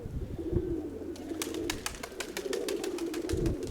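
Pigeons coo in a steady low warble, several close birds overlapping, with a run of sharp clicking or flapping sounds partway through; outdoors on a windy day, no one talking.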